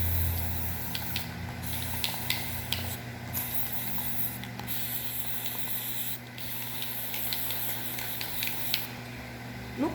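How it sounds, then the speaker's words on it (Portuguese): An aerosol spray paint can hisses in repeated bursts as it coats an MDF box, short spurts separated by brief pauses, close and fairly loud over a steady background hum. "Não pintar muito perto com o spray"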